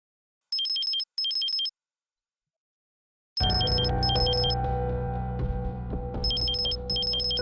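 A phone rings in a domestic drama scene with repeated bursts of bright electronic trilling, two short pairs alone in silence, then more bursts over a dense layer of background music.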